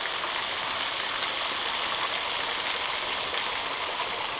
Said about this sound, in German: Bilder vom Wasserfall.